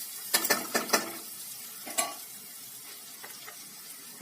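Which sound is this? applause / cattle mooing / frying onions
frying onions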